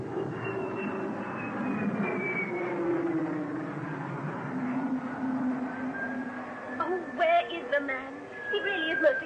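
Propeller airliner bound for Tanzania, standing on a London Airport tarmac, gives a steady engine drone with a rising whine, heard at a distance throughout under a drama soundtrack, with a few louder bursts near the end.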